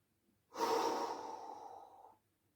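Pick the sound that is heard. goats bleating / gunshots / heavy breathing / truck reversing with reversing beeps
heavy breathing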